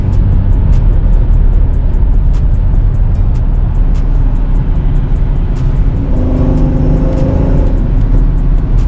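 A supercharged V6 Mercedes AMG accelerates hard on a short pull, its engine roaring loudly and continuously from inside the car, with pitch climbing near the end.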